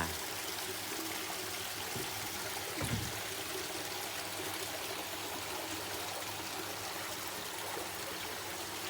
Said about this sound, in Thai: บ้านผมไม่ มี แต่ เสียง น้ำเนาะ เสียงน้ำตก